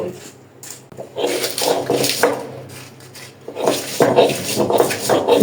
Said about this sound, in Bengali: এখন এগুলা বেটে নিব।